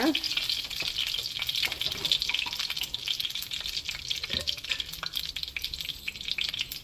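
Cumin and mustard seeds fry in sesame oil in a hot pan, a continuous close sizzle with fine popping crackle and light stirring scrapes, steady throughout with a faint low hum beneath.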